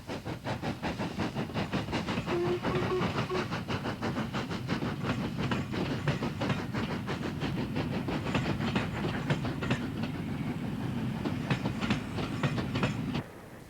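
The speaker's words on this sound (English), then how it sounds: "The train was on its outward trip, travelling via Guide Bridge to Manchester." British steam train on a line via Guide Bridge to Manchester, with a steady rhythmic chuffing and clattering wheels passing at a moderate distance for several seconds before the sound drops off abruptly.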